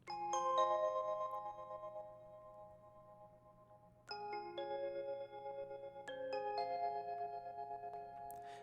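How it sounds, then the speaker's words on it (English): Synthesized bell tones made in FL Studio ring out in three separate struck chords, each with a bright attack and a long, shimmering sustain that slowly fades. "This is what the bells sound like."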